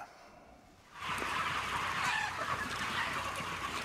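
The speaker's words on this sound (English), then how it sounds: "In the footage, tens of thousands of chickens gleam under the bright lights of fluorescent bulbs." Tens of thousands of chickens in a large broiler shed lit by fluorescent bulbs, a dense continuous chorus of clucking and chirping that starts abruptly after a quiet second and holds steady with no voices.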